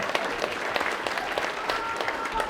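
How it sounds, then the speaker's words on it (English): A studio audience at a comedy show breaks into applause, a dense, steady wash of clapping at moderate level with faint voices underneath. "Round of applause."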